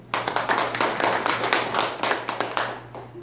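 A lecture audience breaks into applause, a dense patter of many hands clapping steadily for about three seconds, fairly close and without talking.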